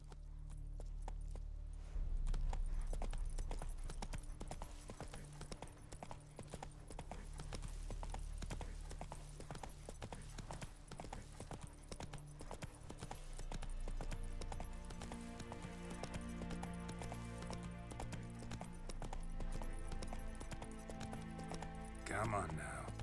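Roach, a horse in a video game, gallops steadily with rhythmic hoof clip-clops and jangling tack, under game music and a voice that talks intermittently.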